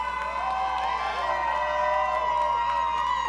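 Sustained crowd cheering at a Big Buck Hunter World Championship event, with shouts and whoops, steady and loud throughout, some clapping blended into the noise.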